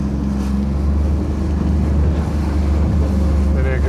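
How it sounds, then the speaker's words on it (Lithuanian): Strong wind at a lakeside fishing spot roars steadily into the microphone, a loud constant low rumble with buffeting gusts and no pause. "čia kažkaip labai jau smarkiai pučia"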